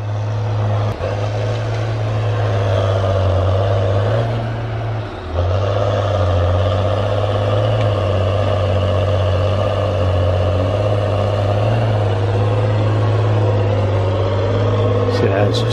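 Diesel engine of a Tigercat 635D skidder runs steadily at close range with a deep, constant drone and a brief dip partway through, with no one speaking.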